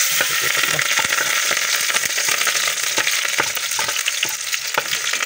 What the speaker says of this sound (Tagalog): lagyan na ng lamas yung mantika, mainit na